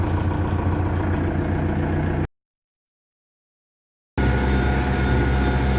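Tractor in fourth gear pulling a trailed BDFP 2.4 disc harrow with new discs, cutting 12 cm deep at about 17 km/h in a field; a steady, loud engine drone with a gap of silence midway, no talk.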